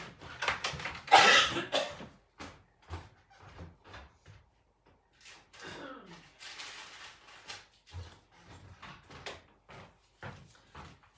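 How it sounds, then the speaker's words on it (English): A burst of harsh coughing up front, followed by scattered knocks, rustling and shuffling movement nearby, with a few more soft coughs. "I just had a coughing spell"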